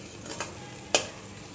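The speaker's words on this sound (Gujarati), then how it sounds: "ઉમેરીને બધો મસાલો આપણે મિક્સ કરી દઈશું।" Spices are stirred into potatoes in a pan for a potato curry, giving a soft continuous sizzle with two brief scraping clinks of the spoon against the pan.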